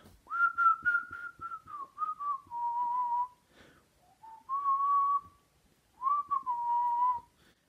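A person whistles a melodic tune alone, in clear phrases separated by short pauses, close and moderately soft.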